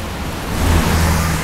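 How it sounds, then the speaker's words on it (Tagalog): Steady, dense broadband hiss of heavy rain, loud and continuous throughout, with a low rumble underneath. "Ang lakas ng ulan guys."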